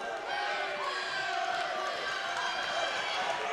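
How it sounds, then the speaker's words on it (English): A home crowd cheers at a college wrestling match, a steady roar of many voices with shouts rising and falling, filling the gym without letup. "you can hear the crowd start to get behind Willie here"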